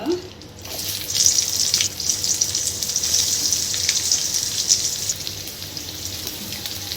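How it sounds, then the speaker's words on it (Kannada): Onions and green chillies frying in a pan for a coastal Kundapura-style prawn sukka, giving a steady, bright sizzle that fills the whole stretch at a moderate, even level with no talk over it. "ಈರುಳ್ಳಿ ಮತ್ತು ಹಸಿಮೆಣಸು ಮಿಕ್ಸ್ ಮಾಡಿ ಚಂದ ಫ್ರೈ ಮಾಡಿ"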